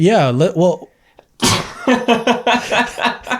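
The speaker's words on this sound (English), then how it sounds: "Got the sneeze out." A single sharp sneeze bursts out loud and close, set between stretches of someone talking before and after it.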